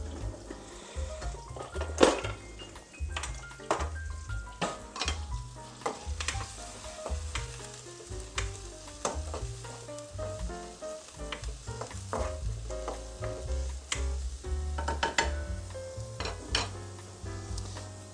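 Onions fry in butter or oil in a pan while being stirred, with continuous sizzling, intermittent utensil scrapes and light clinks against the pan, over tonal background music.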